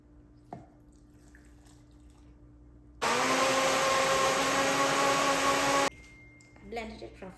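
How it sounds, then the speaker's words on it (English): A blender roughly grinds garlic, chilies, coriander, curry leaves, seeds and mashed tamarind into a paste, a loud steady whir of about three seconds that starts and stops abruptly, with quiet kitchen sounds before and after. "I blended it roughly."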